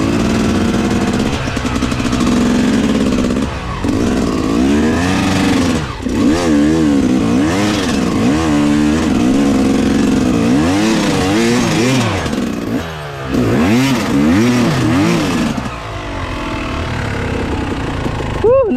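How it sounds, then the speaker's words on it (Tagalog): A motorcycle engine revs and strains on a muddy, slippery mountain trail, the loud note rising and falling repeatedly in close range while people call out and talk over it. "Kuya, patulak lang yung motor ko pa tagilid."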